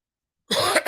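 A single sharp cough bursts out after a moment of silence, close and loud, followed by a brief second catch of breath.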